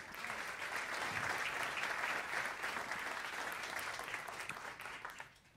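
Sustained audience applause at a live jazz concert, a dense and even wash of clapping that slowly thins toward the end, fairly faint overall.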